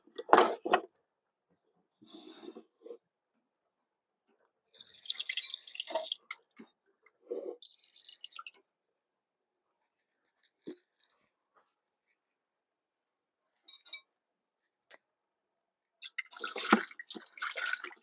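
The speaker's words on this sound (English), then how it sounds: "I don't normally pour water into the sink to wash, but I'm just trying to give them a nice hot pre-rinse" Hot water poured into an RV kitchen sink to pre-rinse dishes in freezing weather, heard as several separate bursts of splashing and trickling with quiet gaps between them.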